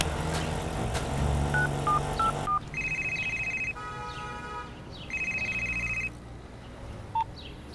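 A telephone keypad dials a number: a quick run of short beeps, then longer steady touch-tones in separate bursts, with a low engine hum from a vehicle nearby underneath.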